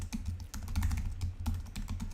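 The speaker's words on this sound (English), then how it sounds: "pardon my typing" Rapid typing on a computer keyboard, a close, dense run of sharp clicks and taps with brief pauses, recorded with no one speaking.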